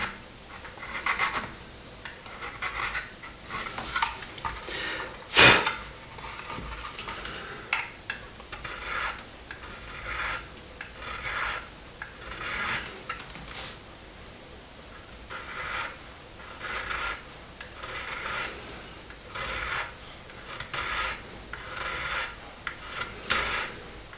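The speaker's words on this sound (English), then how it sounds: "I'm not pressing on hard with this file, I'm just gently tickling at it." A file gently rasping at a plastic part of a 1/24 scale Airfix Spitfire model kit, soft repeated scraping strokes in a steady rhythm, close and quiet, with one brief sharper click partway through and no talking.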